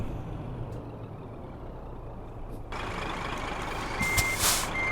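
A truck reversing a trailer in Euro Truck Simulator 2, with a low idling engine rumble throughout and a brighter hiss joining partway, ending in a short burst of high reversing beeps near the end.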